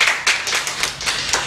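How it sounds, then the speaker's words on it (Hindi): An audience at a television talent show bursts into a brief round of clapping for a guest, with dense, lively handclaps coming in several swells. "इनके लिए तालियां हो जाएं प्लीज़ सबसे पहले।"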